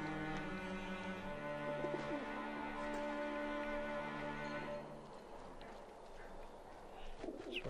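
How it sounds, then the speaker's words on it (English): Game birds in Alice: Madness Returns coo and flutter steadily over layered ambient music, fading somewhat in the final seconds. "Fly, you stupid birds."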